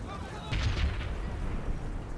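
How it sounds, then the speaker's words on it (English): Cannons firing at long range in the Medieval Total War video game, a loud boom around half a second in followed by a rumbling, rolling report that fades slowly, with a sharp bang at the very end. "My cannons can actually still get some shots from this distance."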